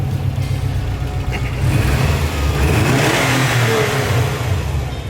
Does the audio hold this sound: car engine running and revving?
yes